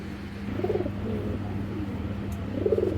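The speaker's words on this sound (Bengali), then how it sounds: "কবুতর দুটা ছেড়ে দেখাই।" A pair of large Indian Gangchil pigeons cooing just after release, two low, throaty coo phrases close by over a steady hum.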